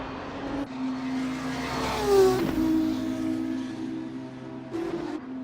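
Race cars in a racing video game sweep across the finish line, a sustained engine drone swelling as a car passes near, then easing off before another engine rises at the end.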